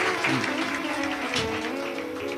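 A devotional Shiv Mahapuran katha gathering in Bhilai, Chhattisgarh, where the crowd claps loudly and steadily in a dense, continuous wash of applause.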